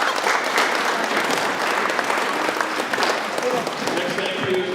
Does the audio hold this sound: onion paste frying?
no